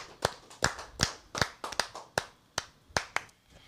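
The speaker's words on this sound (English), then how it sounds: "he don't even know we clapping for him right now." A few people clapping for a guest in a podcast studio, about a dozen separate sharp claps at an uneven, unhurried pace, close and fairly dry, with no voices.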